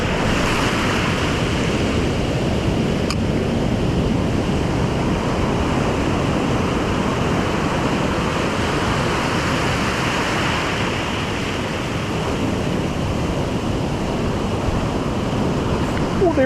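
Cold winter ocean surf on a striped bass fishing beach, a steady roar of breaking waves mixed with gusting wind buffeting the microphone, continuous and close throughout.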